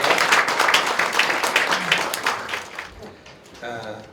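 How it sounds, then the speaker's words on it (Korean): Audience applause at a Buddhist, Christian and Cheondoist scripture comparison forum, a dense wash of clapping from a hall crowd that tapers off near the end, with a brief voice rising at the close. "큰 박수 부탁드립니다."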